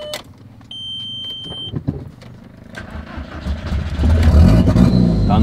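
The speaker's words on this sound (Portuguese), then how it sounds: "Esse aqui já tem um ronquinho mais esportivo, um pouquinho." A Volkswagen Golf with a 1.8 turbo 20-valve engine running on ethanol and fitted with a Magnaflow exhaust idles, then its revs build toward the end, the engine note loud and close with some clicks and knocks along the way.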